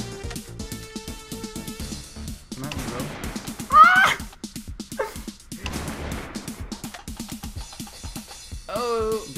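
A comic neigh from the hobby horse weapon in the Screen Cheat video game, with a squealing whinny and yelpy bursts mixed among busy game effects as players talk over them.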